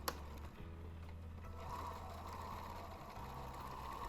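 A sewing machine puts in a lock stitch while sewing a plush gnome, giving a steady, close, low mechanical hum with no voices.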